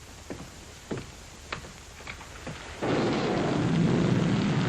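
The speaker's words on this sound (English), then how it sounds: "The rain that's falling down" Faint low thumps and crackles, then a sudden rush of heavy rain that holds steady to the end.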